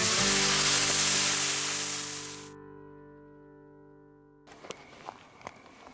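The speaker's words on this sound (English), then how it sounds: "It sizzles just like normal!" Freeze-dried deer smash burgers sizzle loudly in a hot pan with a broad hiss that fades, followed by quieter tones and a few clicks and knocks.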